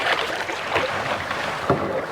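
Kayak paddling on the calm Arabian Sea off Lakshadweep: steady water wash and wind noise, with a couple of sharper paddle splashes close by.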